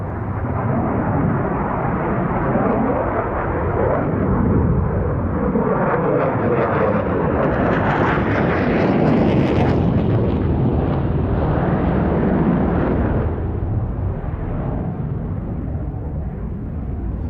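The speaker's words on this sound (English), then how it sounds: "But this aircraft is fly-by-wire, computer-controlled, and as you can see, it is highly maneuverable." A delta-wing fly-by-wire jet roars loudly past at an air show, its broad engine rumble building and sweeping overhead with a rising, then falling whine and wind buffeting.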